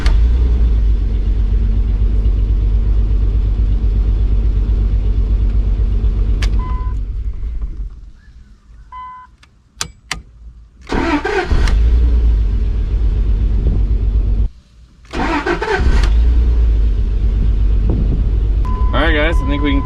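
A 2001 Dodge truck engine cranks and runs with a loud, steady low rumble, dropping out briefly twice before roaring back up, heard close.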